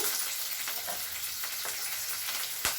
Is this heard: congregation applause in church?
no